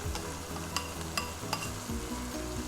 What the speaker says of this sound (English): now the tomato puree is added, crushed tomatoes are added, it's going to splutter